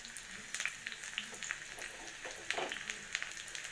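Chopped shallots frying in hot oil with mustard seeds, cumin and fenugreek for a buttermilk curry, a quiet steady sizzle with scattered soft crackles and pops.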